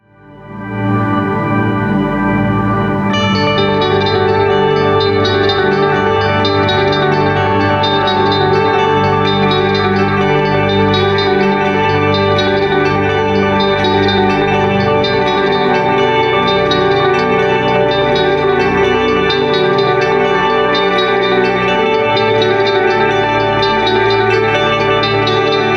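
Electric guitar run through an Anasounds Utopia analog delay pedal with a heavy delay mix plays a chiming, rapidly repeating riff, steady and loud alone throughout.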